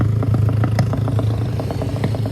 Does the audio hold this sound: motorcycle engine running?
yes